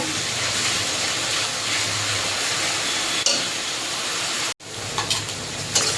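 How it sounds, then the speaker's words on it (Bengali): Onions fry in a pan for doi katla fish curry, a dense, loud, continuous sizzle and hiss with a few stirring knocks and a brief cut-out near the end, close up and without speech. "পেঁয়াজটাকে একটু ভেজে নেব।"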